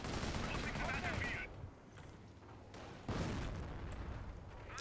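Incendiary mortar barrage in the World War II strategy game Company of Heroes: bursts of distant gunfire and blasts come in two loud clusters with a quieter rumbling gap between, over a battle soundscape.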